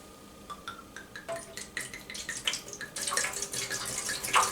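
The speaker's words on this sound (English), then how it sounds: "So I'm going to go ahead and pour in my wine." Wine glugs from a bottle into a plastic container, starting with a few drips and splashes, then building into a fuller, gurgling pour that grows louder toward the end, close by with no talking.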